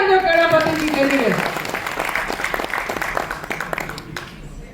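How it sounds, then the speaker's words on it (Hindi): An audience applauds at an annual award function held in an auditorium in Rohtak. After a brief voice at the start, dense, steady clapping fills the hall and then thins out toward the end. "एक बार ताली आ जाओ केलापति जी के लिए"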